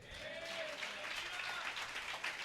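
A church congregation applauding, a dense sustained wash of clapping at moderate distance, steady for the whole stretch.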